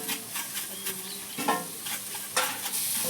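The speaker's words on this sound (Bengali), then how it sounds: "এবার আমি বিট গাজর একসঙ্গে খানিকক্ষণ আমি ভেজে" Grated beetroot and carrot fried together in a pan, a soft, steady sizzle with several spatula stirring scrapes at intervals, close and moderately quiet, no talking.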